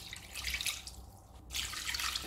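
Water is poured into a cooking pot for boiling fish stock for Chettinad-style fish biryani, a close splashing, trickling pour that runs steadily, dips briefly midway, then resumes.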